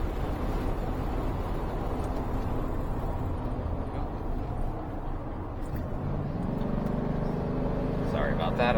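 A 1988 Mercedes-Benz 560SL cruises near an interstate exit, heard from inside as a steady low engine and road rumble with tyre roar, a constant drone that swells slightly near the end.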